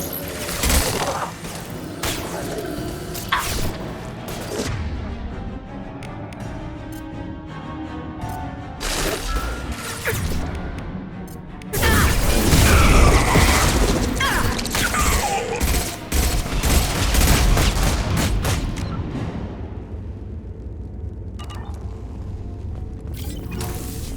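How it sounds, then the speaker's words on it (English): Sustained weapon fire in Mass Effect 2, with rapid mechanical bursts and clattering shots, quieter at first, then a loud heavy barrage near the middle that tapers off into a low hum. "Firing now."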